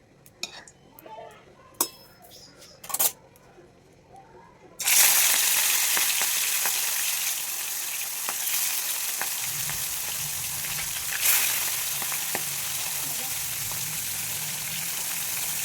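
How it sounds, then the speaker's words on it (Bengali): Fish frying in hot oil sets off a loud, steady sizzle that starts abruptly after a few seconds of quiet clinks and kitchen noise, then continues close and constant with a brief surge near the end. "এবার এই মাছ ভাজা আমার কাছে অনেক অনেক কষ্টের মনে হয়"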